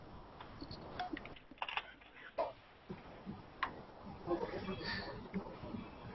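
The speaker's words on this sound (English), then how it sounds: "whilst he's typing" Computer keyboard typing at a developer office session comes through as scattered soft key clicks in uneven bursts, fairly faint and partly under room noise and occasional speech.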